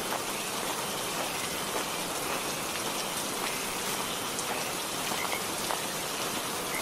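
Steady rain pours down during a nighttime Kalbaishakhi storm in a Bengali horror cartoon, a dense continuous hiss of drops drumming on surfaces that holds constant and fairly loud throughout with no voices.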